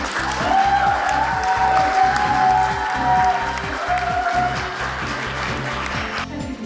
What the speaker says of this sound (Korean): 뜨겁고 긴 박수 부탁드립니다